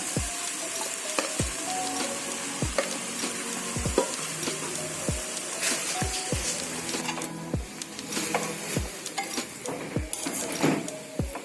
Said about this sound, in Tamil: இதில் இனி நம்ம வடித்து வச்சிருக்கிற சாப்பாடை போட்டு ஃப்ரை பண்ணிக்கலாம்